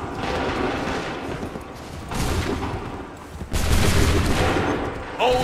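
Musket volleys fired on command in the Assassin's Creed 3 video game: dense crackling bursts of gunfire in waves, the loudest near the end, with shouted voices in the background.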